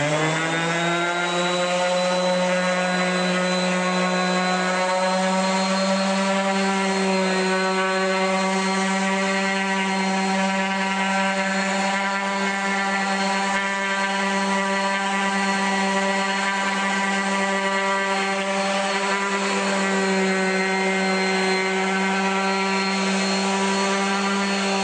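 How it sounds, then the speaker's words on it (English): A small quarter sheet palm sander runs continuously. Its steady, loud motor whine holds an even pitch for the whole stretch, with no talk over it. "this machine is so small and looks very much like a conventional quarter sheet palm sander"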